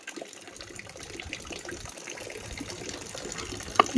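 Water runs steadily from a tap with a soft rushing, gurgling flow and a few sharper splashes near the end, close by and without talk.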